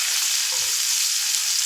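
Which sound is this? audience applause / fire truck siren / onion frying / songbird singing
onion frying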